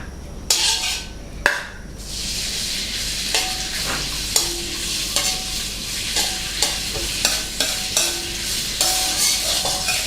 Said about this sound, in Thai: หลังจากนั้นผมจะนำแหนมลงไปผัดก่อนนะครับ